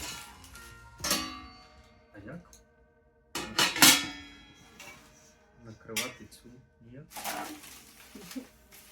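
Metal forks, spoons and kitchen utensils clink and rattle in several bursts as they are picked up and set down during an unboxing, with a person talking in between.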